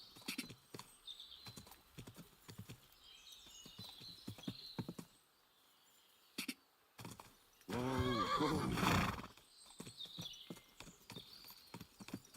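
A single loud horse whinny from a video game rings out amid scattered clicks and light hoof clops, the rest fairly quiet.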